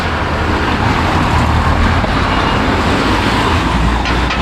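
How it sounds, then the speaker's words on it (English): Heavy city street traffic in Bucharest makes a dense, continuous roar of cars, buses and trucks, loud and close, with a steady low rumble and no breaks. "So Bucharest's got a lot of traffic."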